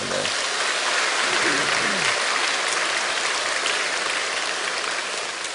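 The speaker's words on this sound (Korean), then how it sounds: "우리 박수로 환영하겠습니다" A church congregation applauds in welcome, a dense, steady wash of clapping filling the whole stretch at close range, with faint speech mixed beneath.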